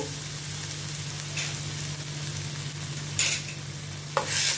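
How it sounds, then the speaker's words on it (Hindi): Finely chopped onion and green chillies sauté in a pan with a steady close sizzle, broken by a few brief scrapes of stirring. "अनियन को पहले मैं थोड़ा सौटे करती हूँ"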